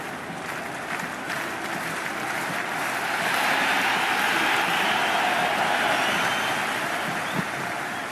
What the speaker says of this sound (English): this crowd is already making it hard for me to be heard